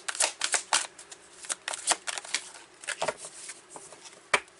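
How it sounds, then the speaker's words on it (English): Tarot cards shuffled close by in a quick series of soft, papery riffles and slaps, uneven in rhythm, with no talking. "So I'm just going to pull some cards here"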